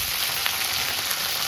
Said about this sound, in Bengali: ফুলকপি ভাজা হচ্ছে